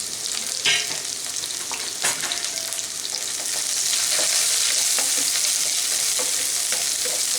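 Chopped onion and green chili hit hot oil in a pan with rice cooking, stirred with a few knocks against the pan before the sizzle swells into a louder, steady hiss.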